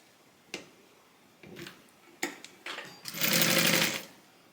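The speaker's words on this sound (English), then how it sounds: "And then I'll just adjust it while I'm sewing." A sewing machine stitching a tote bag: a few short isolated needle clicks and brief runs, then a loud sustained burst of rapid stitching near the end, close up with no voices.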